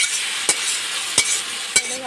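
Fried tempering spices hiss and sizzle as they go into a pot of khichuri, a steady crackling bed broken by three sharp utensil taps.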